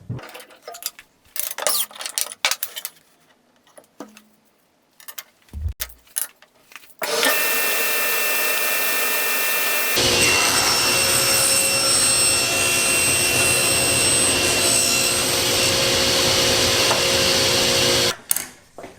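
Power saw cutting through a small wood scrap, a loud sustained buzzing cut of about eleven seconds that follows a few scattered knocks and handling sounds and stops abruptly at the end.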